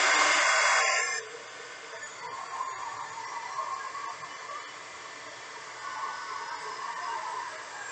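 A heat gun blows across freshly poured resin pieces to pop surface bubbles, a steady close airy hiss that starts loud and broad, then settles into a lower, continuous whoosh.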